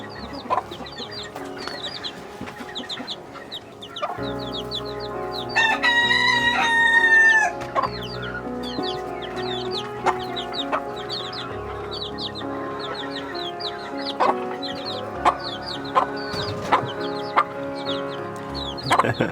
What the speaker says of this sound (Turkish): Karabela, karabela şu an civcivlerine su içiriyor arkadaşlar